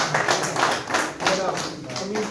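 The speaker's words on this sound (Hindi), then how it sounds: "तालियों से" Applause from an audience at a Republic Day event, a dense patter of clapping with a voice speaking over it.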